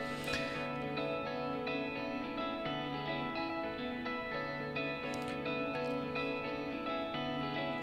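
Stacked electric guitar harmony lines run through a Neural DSP Quad Cortex, forming a dense, sustained wash of layered tones with effects, steady and full throughout.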